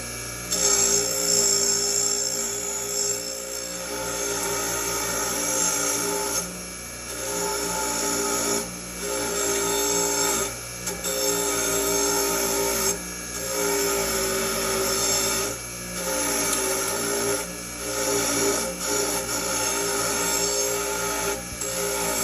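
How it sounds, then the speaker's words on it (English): Power grinder wearing down rivet heads on the grip panels of a 1904 Krag–Jørgensen rifle: a close, steady high whine that runs in bursts of a few seconds separated by brief pauses. "Just grinded down the heads of these rivets."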